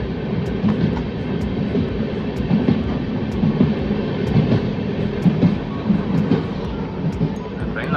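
A passenger train rumbles steadily as it pulls into Ekta Nagar station in Gujarat, with a continuous low roll and faint intermittent clicks of the wagons running throughout.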